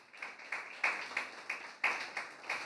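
A church congregation claps in a steady, fairly quick rhythm, about eight distinct beats of hand claps heard at a moderate distance.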